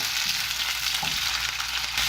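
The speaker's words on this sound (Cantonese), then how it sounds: "爆一爆啲香料， 薑啦，酸薑啦，呢個酸子薑啦， 蕎頭擺晒落去" Ginger, pickled ginger, sour young ginger and shallots stir-fry with spices in a hot wok, giving a loud continuous sizzle and crackle with a few stirring scrapes.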